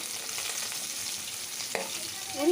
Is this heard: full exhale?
no